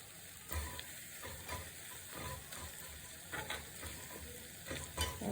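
Grated coconut roasts in a pan for a jackfruit curry, with a utensil scraping and stirring in irregular strokes over a soft, constant sizzle. Fairly close and quiet, no voices.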